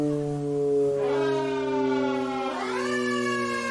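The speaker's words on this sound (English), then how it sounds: "I don't have enough fingers on my left hand to do the tiller and the sirens and the horn" FDNY tiller ladder fire truck siren wailing loudly and close, its tone sweeping down then climbing again in a rising, falling cycle with no talk over it.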